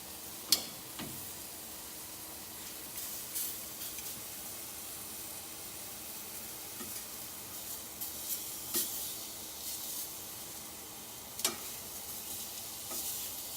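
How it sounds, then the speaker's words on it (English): Balsamic vinegar hitting a very hot pan with steak, a steady broad sizzle and steamy hiss with occasional sharp pops and crackles, under a running range hood. "the pan is so hot it's going to start to steam up and reduce the balsamic vinegar down"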